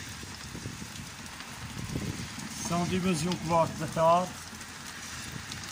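Steady afternoon rain falling outdoors, a soft continuous patter under someone speaking Portuguese close by, with faint background noise throughout.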